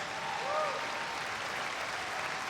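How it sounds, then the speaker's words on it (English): Large audience at a pro-Israel summit breaks into sustained applause, a thick, even roar of clapping with a faint voice briefly rising within it. "That deserves some applause."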